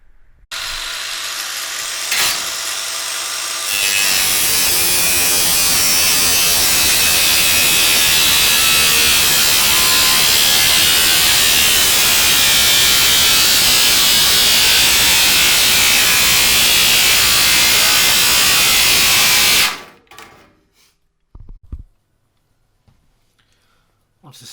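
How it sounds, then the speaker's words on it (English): Angle grinder cutting through the side panel of a homemade Eurorack synth rack case: a loud, steady high-pitched whine and grind lasting about sixteen seconds, then cutting off abruptly into near silence. "I'm about to cut it with a grinder."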